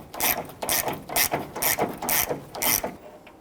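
A ratchet wrench on extensions turns a 10mm bolt on a Hummer H3. Six rhythmic bursts of rapid clicking pawl ratcheting sound close up, separated by short pauses, then fade to quiet.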